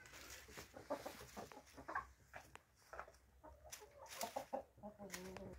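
A few bantam hens in a backyard organic garden with potted banana plants give soft, repeated clucks, faint and moderately close, with some low background noise.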